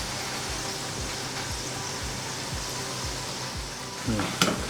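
Masala-coated peanuts frying in oil with a rhythmic scraping stir about twice a second over a constant sizzle, ending in a few louder clatters near the close.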